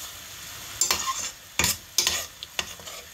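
Fried mushrooms stirred in a pan for a creamy mushroom pesto pasta, a soft frying sizzle broken by several sharp scraping stirs, close and alone with no talk.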